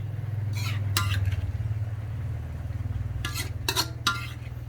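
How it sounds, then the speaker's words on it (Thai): Cooked Thai pork larb being scooped from a pan onto a plate, with a few short bursts of metal utensil scraping and clinking over a steady low hum from the stove. "กำลังอร่อยขออนุญาตตักใส่จานก่อน"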